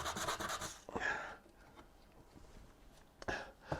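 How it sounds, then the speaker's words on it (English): Softwood carving wood is sanded by hand with 100 grit sandpaper, giving close, rough rubbing strokes in short bursts with a quieter pause between them. "softwood tends to sand really nice."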